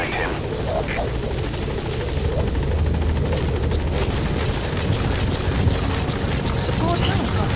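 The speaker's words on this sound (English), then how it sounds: "Support helicopter has arrived." A support helicopter in Metal Gear Solid 5 arrives with a loud, continuous rotor roar and thumping blades that hold steady throughout.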